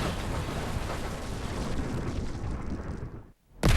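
An electromagnetic gun, shown alongside an AC-130U gunship, fires with a sustained, loud, roaring blast that cuts off abruptly into silence before a second powerful burst begins.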